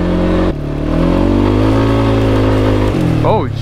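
A 2021 Kawasaki Brute Force 300 ATV engine revs up close, its pitch climbing and holding, then dipping sharply near the end before picking up again.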